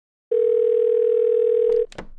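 A telephone dial tone holds steady and loud for about a second and a half on a call to a Sony office, then cuts off into brief clicks and line noise.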